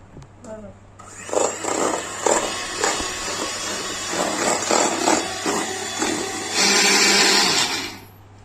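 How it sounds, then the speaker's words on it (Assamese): An electric blender grinds sugar with cardamom in a home kitchen, a loud whirring roar that pulses and surges for several seconds before cutting off. "এয়া মই চেনিখিনি গুৰি কৰি ললো চেনি লগত মই ইলাচি দুটাও দি দিছিলো"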